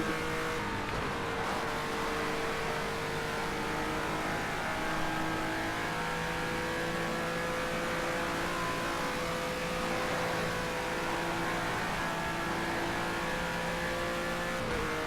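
Renault RS01 race cars in a racing video game keep up a continuous loud engine drone with shifting revs for the whole stretch, several cars running together and no voice over it.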